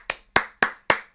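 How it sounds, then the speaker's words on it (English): Five sharp, evenly spaced hand claps from a single person during a casual baseball watch-along, close and distinct with short gaps between them. "Let's clap it up for Roman Todd."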